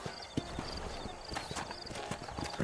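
Horse hooves clip-clop at a steady trot in the Red Dead Redemption western game, a rhythmic run of close, distinct hoofbeats over a busy ambient background, with faint speech mixed in.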